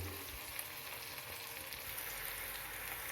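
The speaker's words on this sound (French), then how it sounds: "je vais rajouter les oignons là-dessus" Onions sizzle faintly and steadily on a Moulinex Accessimo plancha, a low, even frying hiss with no talk over it.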